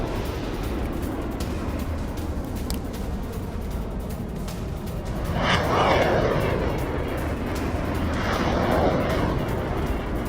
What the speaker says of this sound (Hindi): यूक्रेन ने एक के बाद एक दागे रॉकेट्स